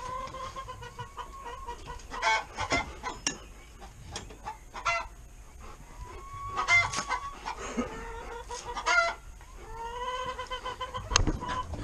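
Agitated backyard chickens cluck and squawk in quick, overlapping bursts close by, with sharp louder calls breaking through a busy, restless chatter.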